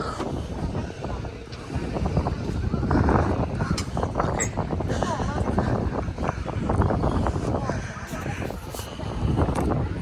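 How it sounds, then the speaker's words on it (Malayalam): Wind buffets the microphone in steady low gusts on the Death Railway in Kanchanaburi, Thailand, rising and falling over several seconds, with faint voices underneath. "നല്ല കാറ്റുണ്ട് കേട്ടോ"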